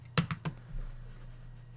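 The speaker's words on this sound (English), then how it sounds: "we're just going to type that into our calculator." Three quick plastic key presses on a calculator keypad, close and fairly soft, followed by a faint low hum.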